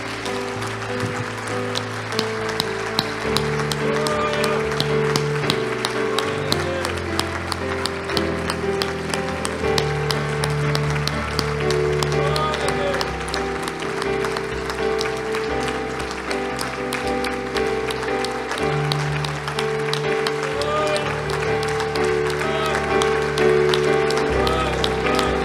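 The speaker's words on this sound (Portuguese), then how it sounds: "E as palmas louvam e glorificam ao Senhor." A congregation at a worship service claps along to music, rhythmic clapping under steady organ or keyboard chords and sustained tones that continue throughout.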